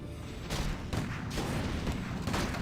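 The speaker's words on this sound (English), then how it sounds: "And that's the change that a second mortar team provides." Mortar team fire in a Warcraft III match: a rapid run of booming blasts and impacts, dense and quiet, overlapping in a fusillade-like clatter with no talk.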